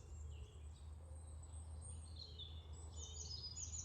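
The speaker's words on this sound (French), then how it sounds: "des oiseaux" Faint birds chirp outdoors in the distance, scattered high calls drifting over a steady low rumble of background noise, with no voices.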